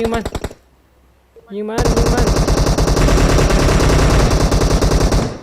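Automatic gunfire in the game PUBG Mobile: a short rapid burst, a brief pause, then a long, loud, sustained stream of fast shots.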